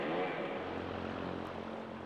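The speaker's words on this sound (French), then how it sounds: "moteur d'avion" An aircraft engine, a Wankel rotary piston design, drones steadily with a dense, even propeller-like hum, moderately loud and unbroken.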